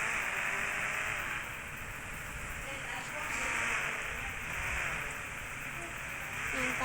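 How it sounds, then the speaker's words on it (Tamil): Steady night rain falls in a continuous, fairly faint hiss with gentle swells, with no voices over it. "அப்பையிலேருந்து மழை பெய்யுது."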